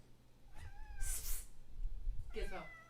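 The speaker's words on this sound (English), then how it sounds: "Our dog is attacking the cat, and the cat's attacking the bubble wrap that JM Hunts sent to us." A house cat meowing indoors, one clear meow followed by a sharp hiss-like burst and another drawn-out meow, fairly close, with low background noise.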